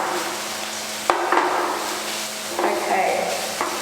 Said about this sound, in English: Mine's starting to splatter a little bit.